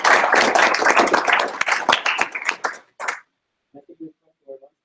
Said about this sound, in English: Okay, let's thank our speaker with a round of applause.